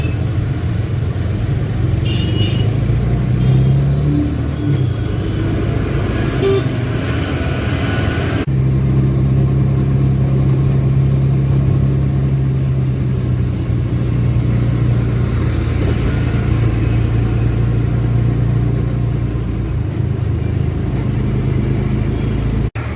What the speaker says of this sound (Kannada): ಎಷ್ಟು ಟ್ರಾಫಿಕ್ ಇದೆ ನೋಡಿ